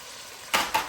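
Water poured into a hot pan of chicken jalfrezi bursts into two quick hissing sizzles in close succession, each a brief loud spurt rising over a low kitchen background.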